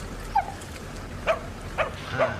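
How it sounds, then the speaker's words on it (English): Two dogs bark from inside an enclosed box, giving muffled, boxy yips and whimpers in four short bursts spread across a couple of seconds, moderately faint, with no talking. "That's two dogs barking in there."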